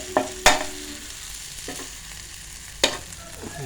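Beef qeema sizzles on a tawa under a soft, continuous frying hiss, punctuated by a few sharp scraping strokes of the spatula as it is stirred.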